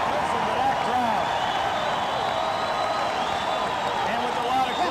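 A crowd at the 1993 Dapper Dan wrestling match roars steadily with cheering and clapping, a dense, continuous wash of noise from a packed arena under a commentator's talk.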